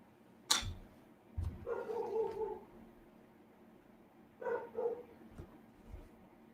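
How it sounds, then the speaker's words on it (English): A dog barks a few times at a distance, short muffled woofs separated by pauses, with a couple of sharp clicks in a quiet room. "Doggo is barking at something."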